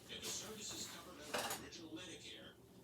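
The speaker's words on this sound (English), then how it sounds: "I'm going to get a small bowl or measuring cup or whatever you have handy" A small bowl or measuring cup taken out in a home kitchen, with soft clinks and clatters of dishes and utensils being moved around, close and fairly quiet over a low background.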